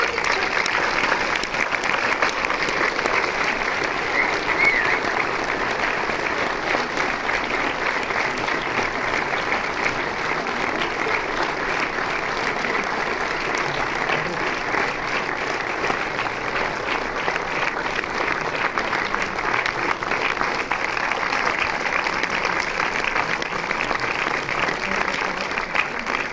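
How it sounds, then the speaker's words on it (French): Sustained audience applause welcoming filmmaker Michel Gondry to a discussion event at a Paris cinema, steady and dense for the whole stretch, with no voices breaking through. "Je vais vous demander de continuer à applaudir et on va recevoir Michel Gondry"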